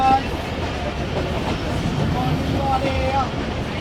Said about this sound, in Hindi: 5:50 ट्रेन हमारी अप्रोच बना रही है टीचावतली रेलवे स्टेशन पर।